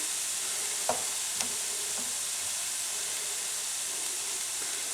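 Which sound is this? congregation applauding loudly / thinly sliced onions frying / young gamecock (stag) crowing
thinly sliced onions frying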